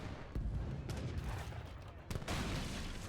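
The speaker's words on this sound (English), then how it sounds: "these falconets managed to put on good volleys on these longbowmen" Falconet cannon volleys boom in an Age of Empires 3 battle against longbowmen, a dense, continuous rumble of gunfire with sharp bursts near the start and again two seconds in.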